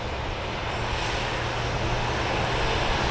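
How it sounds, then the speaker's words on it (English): A Southwest Airlines Boeing 737-800 taxis toward the gate at an airport, its jet engines giving off a steady, broad whooshing drone at moderate distance, unbroken throughout. "737-800 taxiing into the gate."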